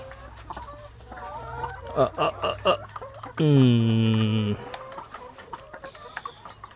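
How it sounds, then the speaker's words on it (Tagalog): Deca Brown Cross Rhode Island chickens cluck and call nearby, with a loud, drawn-out squawk in the middle and softer clucks around it, over farmyard background noise. "nag-uumpisa na tayong magkaroon ng mga sisiw ng Deca Brown Cross Rhode Island mga kabokals"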